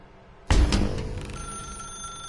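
A telephone bell in The Stanley Parable office game rings out abruptly, loud and close, its bright metallic trill holding on with a lingering electronic tone as the ring sustains.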